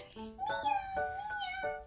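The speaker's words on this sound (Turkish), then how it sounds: "Kedicik nasıl ses çıkarır?" A toy cat gives electronic meows, two or three short rising and falling calls in quick succession, close and clear.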